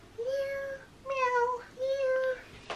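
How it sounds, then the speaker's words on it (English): A house cat meows three times in fairly close succession, clear drawn-out tonal calls with short pauses between, indoors with quiet background. "Cat."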